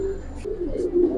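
Flying pigeons of the Giribaz type coo nearby in a short, soft, low murmur with a faint rustle.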